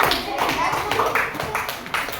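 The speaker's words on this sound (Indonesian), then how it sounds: "Tepuk tangan untuk Jadi." Classroom applause for a pupil at an elementary school, a short burst of scattered hand claps from the children with a voice speaking over them.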